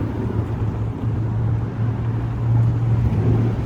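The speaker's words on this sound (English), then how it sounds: "That's a loud car." A loud car passes near a parking deck, a steady low engine rumble with wind buffeting that swells slightly toward the end, no talk over it.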